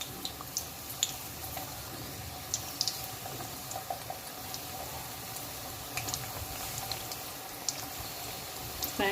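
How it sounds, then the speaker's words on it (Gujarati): Methi mathri frying in hot oil over a medium gas flame, a steady close sizzle with scattered small crackles and pops throughout. "ફાસ્ટ ગેસમાં તળશો તો આ કાચા રહી જશે, એટલે મીડિયમ ગેસ પર જ આપણે તળવાનું છે"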